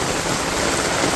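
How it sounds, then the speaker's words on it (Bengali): Heavy rain falls in a village, a dense, loud, even roar of downpour with no breaks and no talking. "চমৎকার বৃষ্টি নামছে, আনন্দই লাগতেছে আমার বৃষ্টিতে।"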